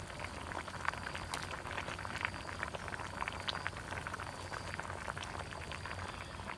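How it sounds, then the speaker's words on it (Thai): A pot of fish soup at a rolling boil, steady dense bubbling and popping throughout, close and fairly quiet, with no talking. "ให้มันเดือดไปเรื่อย ๆ"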